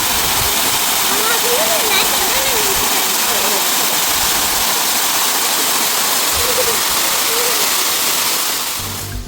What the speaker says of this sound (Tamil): இந்த அருவி எப்படி இருந்தது அப்படிங்கிறத இனிமேல் நீங்கள் பார்க்க போகிறீங்க